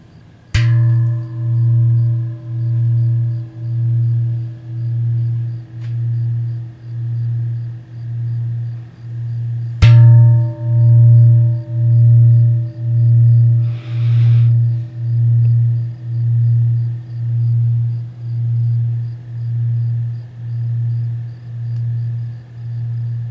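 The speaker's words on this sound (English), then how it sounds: "This is called a standing bell. It's a bell that's standing." Large standing bell made in Taiwan, struck twice, each strike ringing out with a long sustained hum that swells and pulses steadily, loud and close.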